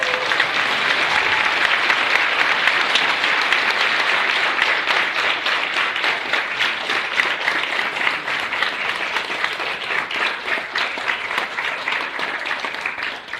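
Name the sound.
audience applause at a jubilee celebration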